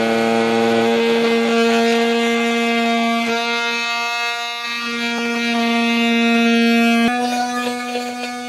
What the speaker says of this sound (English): I'll make this cut using a multi-tool.